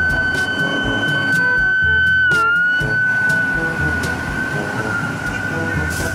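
A toy ladder fire truck siren wails with a steady electronic tone over clicking and rattling handling noises, loud and close.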